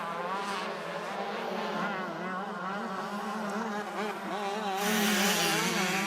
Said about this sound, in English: Here's Conrad Muse on that orange KTM